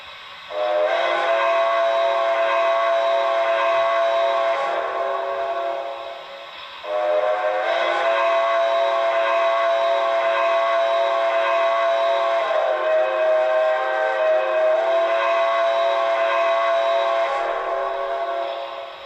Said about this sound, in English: Let's hit the quillable whistle while we're here. Listen to the whistle sounds.